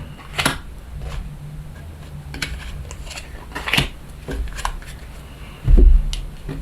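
Tarot cards shuffled by hand for a three-card reading, giving soft repeated riffling and tapping bursts that come close and fairly clear, with a heavier thump near the end and no talk.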